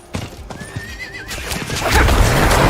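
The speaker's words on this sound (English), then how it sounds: "Oh look, you can get a horse. A horse." Horse neighing in the fantasy video game Ultima Online Outlands, a high wavering whinny over clip-clop hooves, with game ambience growing louder toward the end; no talking.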